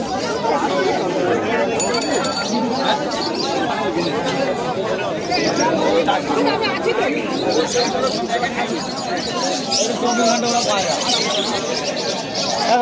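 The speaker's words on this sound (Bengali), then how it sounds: "দেখুন কত ভালো পায়রা" At the Uluberia pigeon market, dense crowd chatter fills the scene while pigeons coo and birds chirp faintly underneath the voices.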